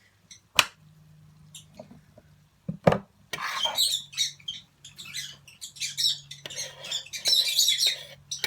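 A pet bird chirps and chatters in short, bright bursts. A sharp click or two comes early, then the calls grow busier and denser over a low steady indoor hum.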